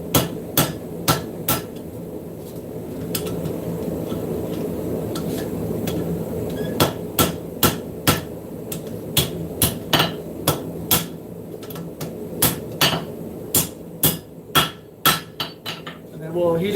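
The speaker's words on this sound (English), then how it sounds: "hammer in on the corner" Hot metal is hammered on the corner of the stock in a forging shop, with loud, ringing blows in quick bursts separated by short pauses, close and clear with no talking.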